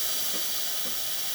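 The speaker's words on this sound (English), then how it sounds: "As the thermoblock starts to get hot, we get more steam pressure coming out from the one" Steam wand on a Breville Barista Express espresso machine, heated by its thermoblock, gives a steady, loud, close hiss of escaping steam that holds constant throughout with no pauses.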